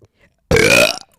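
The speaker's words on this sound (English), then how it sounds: "I'm going to burp." One long, loud, close burp from a person rumbles out for about half a second on its own, with near silence around it.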